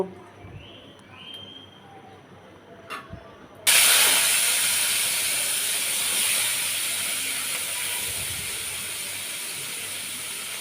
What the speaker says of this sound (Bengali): এখন আমি বরবটিগুলোকে তেলের উপরে দু মিনিটের মতো ভেজে নেব